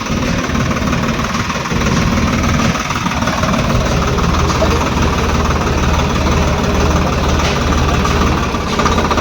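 A tractor engine runs steadily and loudly throughout, a continuous low rumble with knocking, vibrating texture and no pauses.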